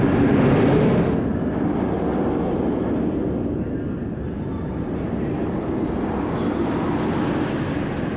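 Loud, continuous rushing roar of the Medusa roller coaster at Six Flags Great Adventure, wind and track noise swelling at the start and then holding steady throughout the ride.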